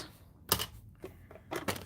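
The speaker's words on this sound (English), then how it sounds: "I'm going to run this through my mini Stampin' Cut and Emboss" A Stampin' Up mini Cut and Emboss machine cranks a die through, making quiet mechanical clicks and ratcheting bursts, a few short clustered knocks close by.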